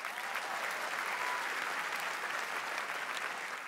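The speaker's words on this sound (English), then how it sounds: "How about another round of applause for our terrific student performers?" Dense, continuous applause from a large audience honoring student performers at a university presidential inauguration ceremony, steady and full for the whole stretch.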